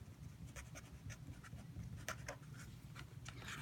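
A pen or pencil writes an equation on paper in short, quiet scratching strokes, close up, with no talking.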